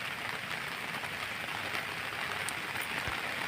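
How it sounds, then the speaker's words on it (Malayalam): Heavy rain pours down in a dense, continuous wash of hiss and patter, steady and unbroken throughout with no voices. "മഴ ഒരു രക്ഷയുമില്ല, മഴ തകർത്തുകൊണ്ടിരിക്കുകയാണ്"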